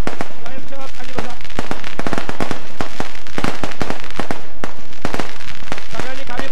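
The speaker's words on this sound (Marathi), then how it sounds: "फटाक्या वाजवणं थांबवा." Firecrackers burst in rapid, loud, irregular cracks at a crowded party workers' gathering in Pezari, with voices heard among the bangs.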